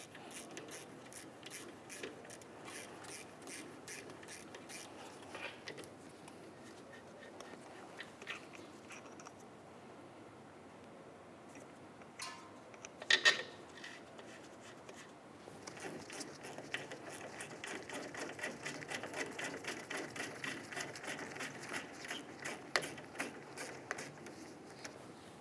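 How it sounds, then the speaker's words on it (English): A 10mm wrench turns the caliper slider pin bolts on the rear brake of a 2004-2015 Nissan Titan, giving repeated ratcheting clicks close by, soft at first, with a sharp clank midway and busier clicking toward the end. "To remove these, you're going to use a 10mm wrench."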